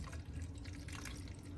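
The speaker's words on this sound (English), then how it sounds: "I pour the prepared garlic, rice, and vitamin B1 solution into a spray bottle." Garlic, rice and vitamin B1 solution being poured into a spray bottle, a soft liquid trickle with faint drips, quiet and close, with no talk.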